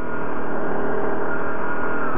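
An ATV fitted with Commander WS4 tracks drives along a street, its engine a loud, steady, close drone mixed with the rolling rumble of the tracks.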